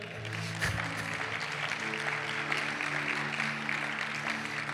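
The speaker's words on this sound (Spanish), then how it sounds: "Denle el aplauso al Señor, pues." A Spanish-speaking church congregation applauds the Lord in a continuous wash of clapping, with a sustained musical tone lingering underneath throughout.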